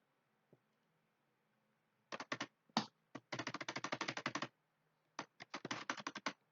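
Bursts of keystrokes on a computer keyboard as a Cisco router command is typed in a networking session, close and clear, with quick rapid runs separated by short pauses and no talk.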